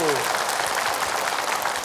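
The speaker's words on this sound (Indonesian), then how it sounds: "Boleh tepuk tangan Ibu" A studio audience claps together at an Indonesian television religious talk show, a dense, even patter of applause that runs without a break, with a voice faintly heard over it.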